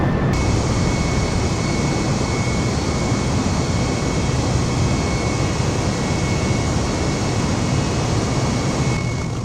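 An airliner rolls along the runway at Mumbai airport, heard from inside as a loud, steady roar of engines and rumbling wheels that holds constant throughout.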